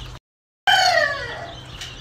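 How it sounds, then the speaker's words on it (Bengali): Chickens and young chicks raised in a manual incubator room cluck and peep with high, bright calls after a brief silence, close and fairly loud, with no talking. "দেখুন কতটা সুন্দর মুরগি বাচ্চাগুলা"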